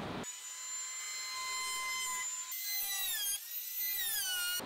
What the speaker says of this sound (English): I just want to round over some of these edges with a little router